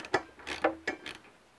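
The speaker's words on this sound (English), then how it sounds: "We have these four 10mm pinch bolts, two on either side. And we're just going to loosen those up so they stop pinching the axle." Ratchet loosening 10mm pinch bolts on the inverted front fork of a 2006-2010 Suzuki GSX-R 600/750 motorcycle: a few short, close clicking bursts with brief pauses, alone and fairly quiet.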